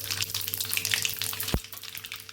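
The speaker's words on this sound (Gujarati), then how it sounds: "રાઈ ફૂટે એટલે તરત આપણે અડધી ચમચી જેટલું જીરું ઉમેરી દઈશું" Mustard seeds and cumin sizzle and crackle in hot oil, a dense continuous fry with a sharp pop partway through.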